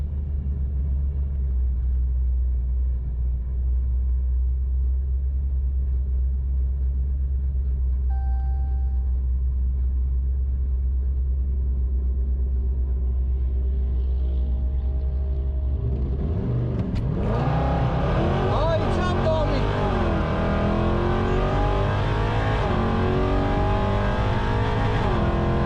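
Supercharged 5.7 Hemi car drag racing a Dodge Hellcat at a track: a steady low idle rumble for about sixteen seconds, then a loud, sudden roar of hard acceleration with rising revs that carries through to the end.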